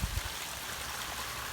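Water from a tide maker gushes out to raise the water level, a steady, even rush with a few low thumps right at the start.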